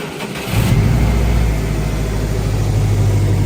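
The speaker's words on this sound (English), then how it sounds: "let me get you guys a video of this thing starting up" A Subaru WRX engine cranks briefly and catches, then settles into a loud, steady rumbling idle close by, the burbling tone holding for several seconds with no voices.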